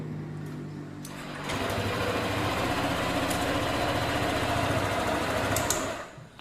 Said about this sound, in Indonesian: Motor bisa hidup.